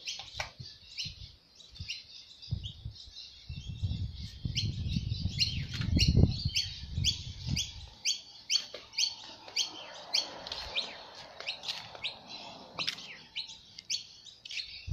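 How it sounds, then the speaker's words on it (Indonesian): A bird chirps in quick, repeated high tweets, close and clear, over a soft low rumble that fades partway through; no talking. "Hey, burung, makan apa kau?"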